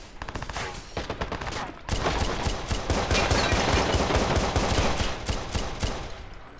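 Gunfire in the video game Watch Dogs: rapid automatic bursts crackle continuously, briefly pausing before a louder, denser stretch of sustained machine-gun fire that carries on to the end.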